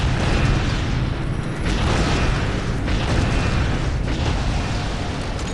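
Rocket launcher explosions in the video game Unreal 2: The Awakening; dense, loud booming blasts and rumbling bursts roll on continuously, with several distinct impacts layered over heavy noisy background.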